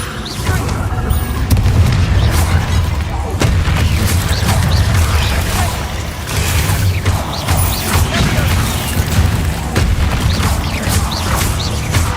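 Confringo fire spells in Hogwarts Legacy burst again and again in a loud, continuous run of booming blasts and crashing impacts, with spell incantations called out amid the combat.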